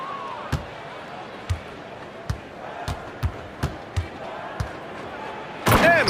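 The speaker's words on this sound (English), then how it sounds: "And Westbrook slams it home." Westbrook's basketball slam dunk in a Denver vs Milwaukee NBA game: a steady run of sharp ball bounces, then a sudden loud slam with a burst of crowd noise at the end, under commentary.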